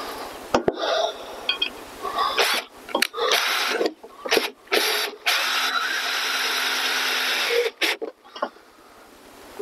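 A power driver runs 45mm hex head screws into a fascia board, with several whirring bursts of varying length broken by short pauses and taps, close and fairly loud with no one talking.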